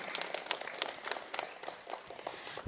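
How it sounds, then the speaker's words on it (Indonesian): Faint, scattered clapping from a small school audience at an elementary school event, uneven hand claps rising and falling briefly and sounding somewhat distant. "Tepuk tangannya dulu mana."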